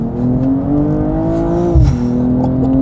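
A BMW M240i coupe from 2022 with a six-cylinder engine idles and revs close by. Its loud, steady drone rises slightly, then dips and settles again.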